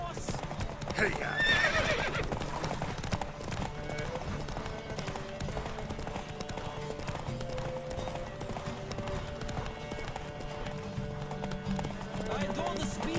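Horse race in The Witcher 3: Wild Hunt, steady clip-clop of galloping hooves with a whinny early on, set against a continuous music score, with riders' voices calling out over the ride.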